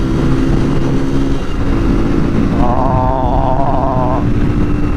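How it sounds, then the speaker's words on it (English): A Honda CB250RS motorcycle engine drones steadily up close, its pitch rising as the revs climb, with a whining tone surfacing partway through. "power on, watch those revs climb"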